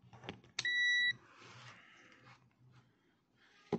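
A multimeter in continuity mode gives a single clear electronic beep lasting about half a second while a micro switch is tested, followed by faint handling clicks.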